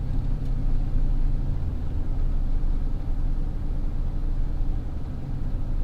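A slammed GMC Sierra truck with a 5.3 V8 swap, headers and an open Y pipe with no catalytic converters but the stock exhaust, drives with a steady, moderate low engine rumble and no talking.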